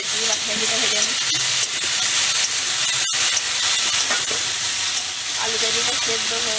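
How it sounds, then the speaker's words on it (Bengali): Okra frying in a pan while Bengali dishes are cooked for a puja, giving a steady, close, loud sizzle and hiss that runs the whole time with light stirring and one brief dropout. "ভেন্ডিটা ভেজে নিচ্ছি।"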